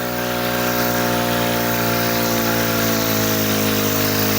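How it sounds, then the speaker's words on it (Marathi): A small four-stroke petrol engine on a power sprayer runs loud and steady close by, a constant droning hum with a buzzing mechanical edge and no pauses. "इंजिन वगैरे एकदम स्मूथ मध्ये चालतं आहे"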